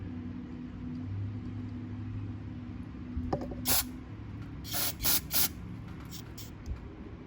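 Short bursts of aerosol cleaner sprayed into the carburetor of a Briggs & Stratton 140cc lawnmower engine, several hissing blasts of varying length over a low background hum, close by with no talking.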